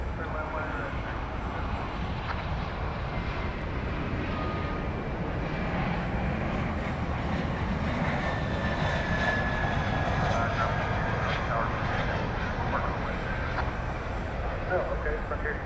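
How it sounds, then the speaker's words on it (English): An Airbus A321 airliner arriving at DFW Airport, its engines a broad steady roar from a distance, sustained throughout beneath radio chatter and talking. "So American 2635 from Ontario, California is next in. This is an Airbus A321."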